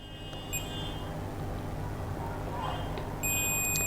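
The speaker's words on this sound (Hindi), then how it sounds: "यानी कि बीप साउंड दे रहा है, इसका मतलब ये हमारे ट्रैक से जुड़ा हुआ है" A multimeter on continuity mode gives a steady electronic beep while its probes touch a circuit board track. The tone comes in two separate spans, stopping and starting again over a low background hum.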